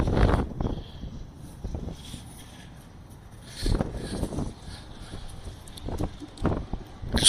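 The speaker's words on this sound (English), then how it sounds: "Oops, this wind." Gusty outdoor wind buffets the microphone at a heritage show, with low rumbling bursts rising and falling in several strong blasts between quieter stretches.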